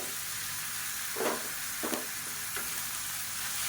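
Tomatoes sauté in a pan with onions for a gravy side dish, giving a steady sizzling hiss with a few soft scraping stirs of a spatula, no talking.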